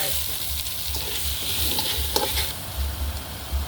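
Pork belly sizzles steadily in hot oil with garlic, galangal, lemongrass and shallots for a Thai kaeng khi lek curry, a close continuous frying hiss with occasional stirring knocks and no talking.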